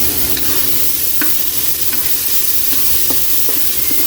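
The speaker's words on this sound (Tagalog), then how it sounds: "Maglagay tayo, Kayli, ng brown sugar. Yan, 1 kutsara lang, Kayli. Mix muna natin yan." Brown sugar being stirred into a coconut milk stew with tuna (ginataang tulingan) simmering in a pan, a steady low sizzle and bubbling with soft scraping strokes of the spoon, close and continuous, with no talking.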